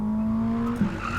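A Ferrari 849 Testarossa drifts with traction control off: a steady, buzzing engine note holds, then dips as the tires scrub and squeal through the slide, with the revs rising again near the end.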